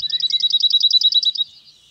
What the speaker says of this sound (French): Le chant du bruant zizi